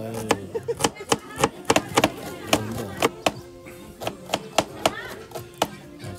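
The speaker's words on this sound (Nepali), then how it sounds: "प्याज पनि खतरा काट्छ" Onions being chopped with a knife at a Magar family gathering in Nepal, a run of sharp, irregular knocks on a board, close and fairly loud, with background chatter and voices underneath.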